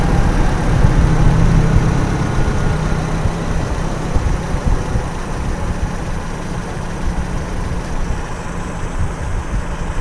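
Toyota Kijang Super engine idling during a tune-up after the throttle is backed off, a steady low rumbling drone close by, slightly louder at first and then settling evenly, with no voices.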